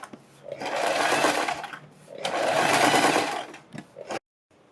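A sewing machine stitches around a blouse neckline next to buckram interfacing, running in two steady whirring bursts with a short pause between, then a few light clicks before stopping.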